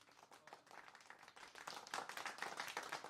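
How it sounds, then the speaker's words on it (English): An outdoor football crowd applauds in a stock sound effect, soft scattered clapping that thickens and grows louder, heard from a distance with no talking. "football crowd, outdoors applause"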